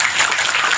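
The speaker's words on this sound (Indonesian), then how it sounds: "Tepuk tangan untuk masyarakat Bali." An audience at an Islamic religious gathering in Bali breaks into a short, loud burst of applause, dense and close.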